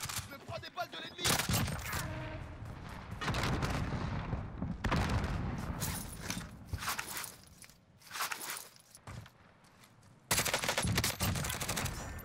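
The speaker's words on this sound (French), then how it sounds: "Je vais tirer dessus. Je me prends des balles de l'ennemi." Rapid automatic gunfire in a battle royale shooter, repeated loud bursts and exchanges of shots close by, broken by short pauses with footsteps, while players talk over it.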